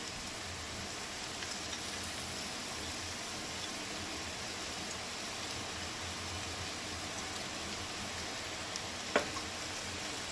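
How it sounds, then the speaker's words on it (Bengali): Carrots and green beans fry in a pan with a steady, even sizzle that runs the whole time, plus one sharp clink near the end. "এবার এই গাজর আর বিনসটাকে একটু ভালো করে ভেজে নিতে হবে।"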